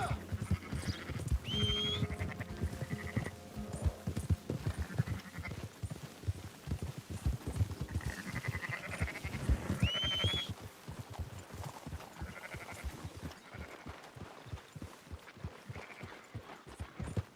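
Sheep bleating in the video game Red Dead Redemption 2, several wavering bleats from a flock at moderate distance, mixed with shuffling hoof clatter and a steady low-level bustle.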